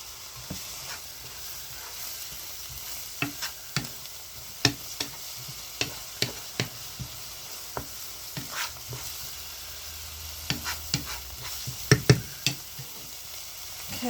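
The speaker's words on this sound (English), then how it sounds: "So we're just going to saute this up for a few minutes." Vegetables sautéing in a pan at a cottage kitchen, a steady sizzle broken by repeated scraping and knocking strokes of a stirring utensil, close and clear with no talking.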